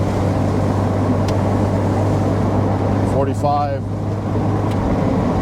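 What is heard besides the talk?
off-road Pontiac Fiero driving in second gear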